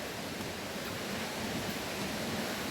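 The Sapan waterfall in Nan province, Thailand, sounds from a distance up a steep trail as a constant, dense roar of falling water, steady and unbroken with no voices.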